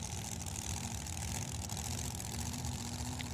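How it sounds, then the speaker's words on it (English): A steady, rumbling engine drone holds at the drag strip start line, where two dragsters, both big-block Chevys, one with a big blower, sit idling, loud and continuous with no clear revving. "we have two dragsters coming up"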